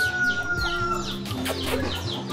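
Chickens cluck and squawk close by in short, overlapping bursts on Nusa Penida island, Bali, with faint background noise and no talking.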